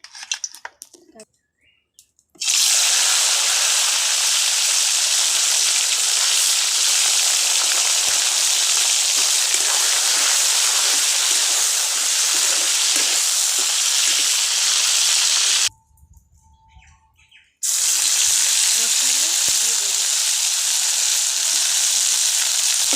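Fish marinated in salt and turmeric fries in hot oil, a loud, dense, continuous sizzle up close that stops briefly and then resumes at full strength.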